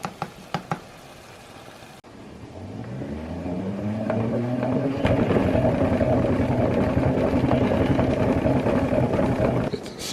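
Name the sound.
salad spinner drying lettuce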